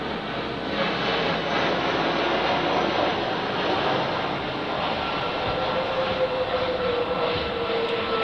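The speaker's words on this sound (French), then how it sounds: "J'habite dans une zone où passent les avions." Airplanes pass overhead in a zone under a flight path, a loud, steady broadband engine roar that fills the whole stretch without any voices.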